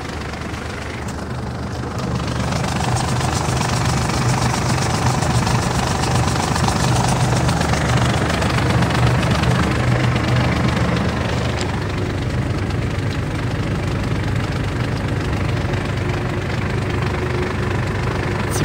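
A Kubota KT235 tractor engine runs steadily in third gear, a loud, continuous diesel rumble with a rattling, knocking texture that builds after the first couple of seconds and holds without any talking.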